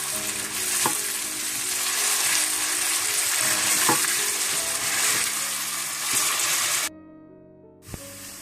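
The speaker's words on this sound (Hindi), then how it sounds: "इसमें आप प्याज डाल दें। इन प्याजों को आप ब्राउन कर लें।" Onions browning in hot oil in a pan for achari murgh give a steady, loud sizzle with occasional spatters and stirring clinks, then cut off abruptly near the end before a brief return.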